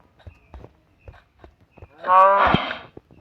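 A Minecraft cow gives one loud, close moo lasting about half a second, after a stretch of faint, scattered game clicks.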